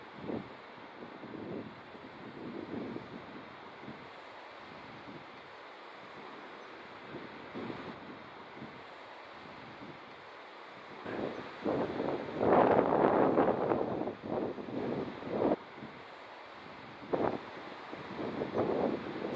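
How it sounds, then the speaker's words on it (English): Strong wind from an Atlantic hurricane at the coast in Nazaré buffets the microphone in uneven gusts, rumbling low and swelling louder in the second half. "Very windy."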